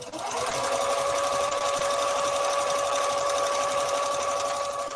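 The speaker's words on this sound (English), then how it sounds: "I want y'all to be able to see the walking foot, how it sews" A sewing machine fitted with a walking foot stitches scuba fabric in a steady, continuous motor whir and rapid needle patter, close and loud, running without a break and with no talk.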